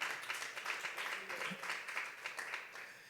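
Church congregation clapping in applause, a moderate, fairly distant patter of hands that rises and falls in waves, with a brief low voice or murmur in the middle.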